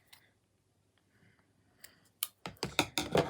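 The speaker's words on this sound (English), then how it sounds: "I'm going to cut a second piece to go with it" Scissors cutting a piece of cord for a stacker bracelet, a quick run of four or five sharp snipping clicks close by at the end, after a faint earlier click.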